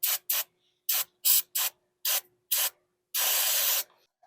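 Brake cleaner from an aerosol can sprays in seven short hissing bursts, then one longer continuous blast, close up and alone, during fiberglass repair work on a 1962 Ford Ranchero.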